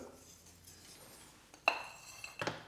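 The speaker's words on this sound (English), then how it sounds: "Now I'm going to put in the chocolate." Pieces of chocolate drop into a pan of hot milk, giving two distinct clinking clatters against the pan after a quiet, faintly hissing stretch.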